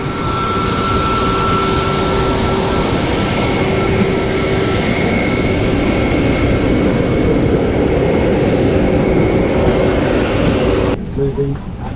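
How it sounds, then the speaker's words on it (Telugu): A loud, steady jet engine roar of a Vietnam Airlines plane taking off at Da Nang fills the whole stretch, broad and continuous, with faint voices mixed in, easing off only at the very end. "ఇదిగోండి ఇంకో ఫ్లైట్ వెళ్తుందండి"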